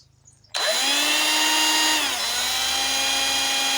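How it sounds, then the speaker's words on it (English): An electric drill spins up a diesel engine part from a JTD 8V engine to check for wobble, starting abruptly after a quiet moment into a loud, steady high-pitched whine that dips slightly in pitch midway. "You can also put it on the drill and see they do not wobble."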